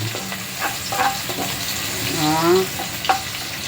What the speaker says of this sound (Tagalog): I-fry muna natin itong onion at saka bawang.